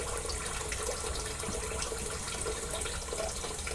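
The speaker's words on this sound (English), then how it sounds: "you soften up the bristles with hot water" Hot water runs from a tap to soften the bristles of a shaving brush, making a steady, fairly quiet rushing hiss throughout.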